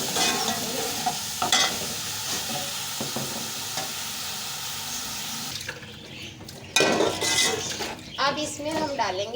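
Green coriander, spinach, onion leaves and chillies sizzle and crackle in a hot pan for kadhi pakora, a steady close frying hiss that gives way to a person talking near the end.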